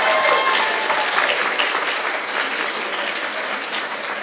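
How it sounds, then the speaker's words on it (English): An audience at a League of Women Voters civics bee applauds the winning teams with steady, dense clapping from many hands that holds at an even level for several seconds, with no voices over it. "Okay, everybody give her a round of applause"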